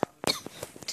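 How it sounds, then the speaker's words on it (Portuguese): A person coughs several times in short, sharp bursts, close and fairly soft, with no talking. "Tô tossindo aqui."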